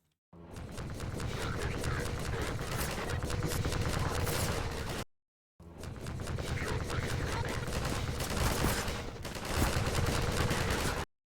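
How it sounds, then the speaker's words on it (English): Rapid automatic gunfire in the Half-Life 2 video game, sustained dense bursts in two long stretches separated by a brief silence, loud and close. "we're getting pushed back by the bullets?"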